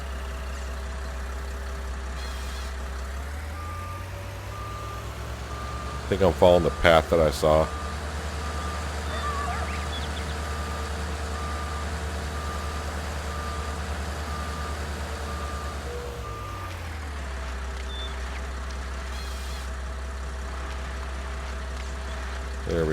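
A logging truck hauling a timber trailer in Farming Simulator maneuvers with a steady idling engine hum and a repeating reverse beeper, while a person talks over it.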